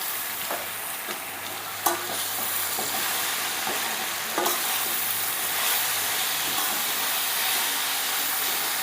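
Black nightshade greens frying in a pan, a steady loud sizzle and hiss with a few sharp crackles and stirring knocks throughout.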